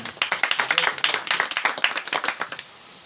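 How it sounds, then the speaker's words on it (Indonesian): A short burst of brisk hand clapping from a small group at a youth discussion event, sharp claps for about two and a half seconds before fading out. "Tepuk tangan untuk semua penanya."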